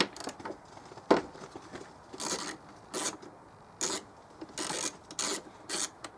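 A 10mm socket works a seized bolt on the rear wiper of a 2007 BMW E91 335i, giving a series of short rasping, ratcheting bursts separated by quiet gaps, close and fairly soft.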